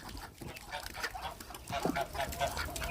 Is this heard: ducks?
yes